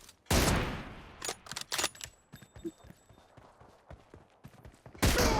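Gunfire in the PUBG Mobile video game: loud bursts open and close the stretch, with scattered sharp single shots and short volleys in between, like a one-on-one firefight.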